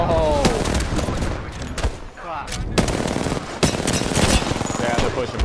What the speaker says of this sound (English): That airstrike was perfect.